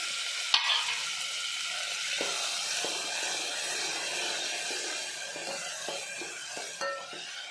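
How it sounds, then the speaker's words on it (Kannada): Chopped tomatoes added to golden-brown onions fry in a pan, sizzling steadily while a utensil clanks once sharply and then taps and scrapes at intervals as the mixture is stirred. "ಈಗ ನಾವು ಟೊಮೆಟೊ ಅಷ್ಟನ್ನು ಹಾಕೊಂಡ್ಬಿಡೋಣ ಸೊ ಈಗ ಟೊಮೆಟೊ ಎಲ್ಲ ಇದಕ್ಕೆ ಆ್ಯಡ್ ಮಾಡಿದ್ದೀವಿ"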